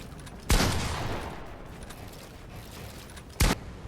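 Two sharp, loud gunshots ring out in the video game Fortnite during a building-piece practice session, spaced about three seconds apart; the first rings into a long fading tail, with no talking.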